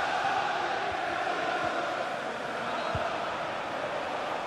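Stadium crowd in the FC 24 football video game, a steady broad roar of cheering and chanting that holds at even loudness throughout, with no commentary over it.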